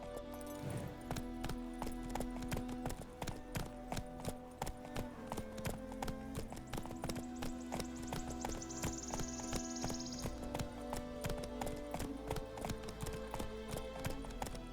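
Hooves of the horse Roach in The Witcher 3 video game clip-clopping in a steady brisk rhythm, close and crisp, over a bed of game music and a brief whinny-like tone.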